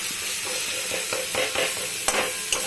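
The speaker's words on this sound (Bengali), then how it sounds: "মশলা পুরো ভাজা হয়ে গেছে, একদম একদম জমা হয়ে যাচ্ছে, একসাথে জড়ো হয়ে যাচ্ছে, আর মশলা দিয়ে তেল ছেড়ে দিয়েছে দেখুন।" Spice paste for a spicy pabda fish curry sizzles and fries in oil in a pan, with steady crackling and intermittent stirring scrapes, close and continuous.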